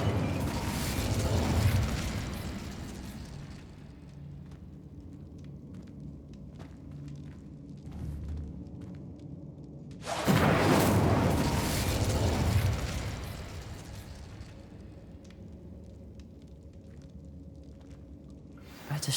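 Two roaring whooshes of flame from the Incendio fire spell cast in Hogwarts Legacy, the first lasting a few seconds and then fading, the second louder and longer around the middle, with quiet ambience between them.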